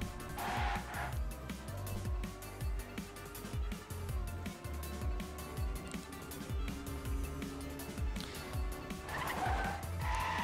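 Race cars in a video game sliding through corners on a Malaysian GP track, with droning engines, repeated tire squeals and skids rising and falling over about ten seconds, no talk heard.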